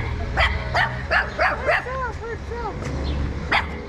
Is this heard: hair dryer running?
no